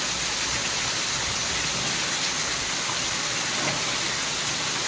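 Heavy rain pours down in a dense, continuous hiss, loud and steady throughout with no voices.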